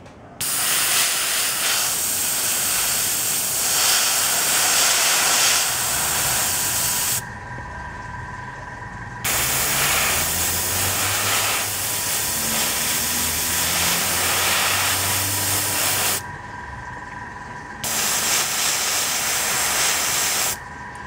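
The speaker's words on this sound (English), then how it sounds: "When I'm spraying" Airbrush spraying paint onto miniature model parts for a Dark Elves Kharibdyss war hydra, a steady close hiss in long bursts broken by two short pauses.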